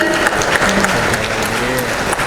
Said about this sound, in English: Can we have another round of applause for them, ladies and gentlemen?